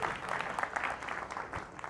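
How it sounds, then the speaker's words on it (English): An audience at a live show gives a round of applause as a participant heads back to their seat, soft and fairly distant clapping throughout. "another huge round of applause"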